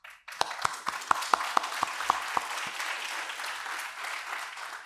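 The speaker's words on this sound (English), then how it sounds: "round of applause for them," An audience at the SingCon security conference claps, starting with a handful of sharp, distinct hand claps that quickly blend into a steady patter of applause, moderately loud and fading slightly toward the end.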